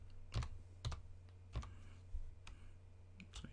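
A password is typed on a computer keyboard in a few distinct, well-spaced keystrokes, close and crisp over a low steady hum, with no voices.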